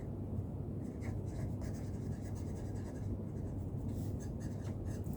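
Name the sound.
writing the solution by hand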